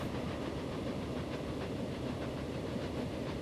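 A train rolls along in the Train Sim World video game, giving a steady close rumble with faint rhythmic clatter from the rails and an underlying hiss.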